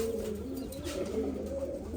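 Pigeons coo in a loft, several low, rounded, overlapping calls rolling steadily and close by, with no voices.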